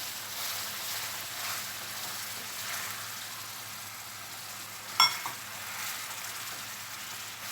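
Soft, steady sizzling hiss from caramelizing sugar in a pan, with a single sharp pop and crackle partway through as liquid is poured in.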